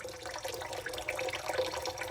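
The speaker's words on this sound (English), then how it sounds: "Now there's a water in there coming in." Water runs steadily into the membranes of a Watts Premier Filter-Pure UF3 ultrafiltration system, a faint continuous rushing and trickling with no voices.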